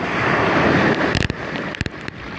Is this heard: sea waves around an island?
yes